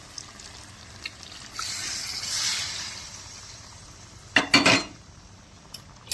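Mutton curry simmers in a pot after hot water is added. A spoon scrapes and clinks against the metal in a few quick strokes over a soft, steady sizzle of cooking.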